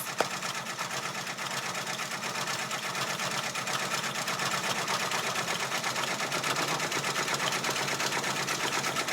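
An embroidery machine runs steadily at 500 stitches per minute while stitching out a design for a hat. It makes a continuous, fast, even mechanical whir and rattle at constant loudness, close by, with no voices.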